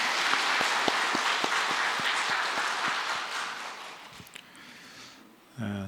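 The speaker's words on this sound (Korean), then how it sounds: "하나님께 영광의 박수 하겠습니다" A church congregation claps during a Sunday worship service, a broad sustained wash of hands with some distinct slaps, fading gradually before a brief voice enters at the end.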